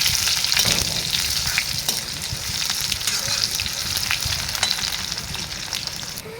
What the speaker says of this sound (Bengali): পাঁচফোড়ন, আর দিয়ে দেবো আমি পেঁয়াজ একটা কেটে রেখেছি